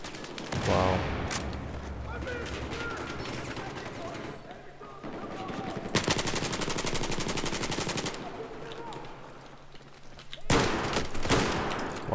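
Automatic gunfire from an M416 rifle fitted with a suppressor in the shooter game Battlefield 4, rapid bursts with dense rattling volleys at about six and again near the end, with voices talking over the din.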